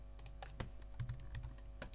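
Rapid, uneven clicks of a computer keyboard as text is typed into graphics software, close and steady over a low background hum with no talking.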